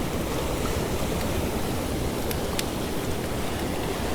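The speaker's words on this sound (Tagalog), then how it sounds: "tingnan nyo yung lalakas ng alon" Strong ocean waves roar in a constant, dense wash of surf at a shoreline fishing spot, loud and close with heavy wind buffeting, no voices.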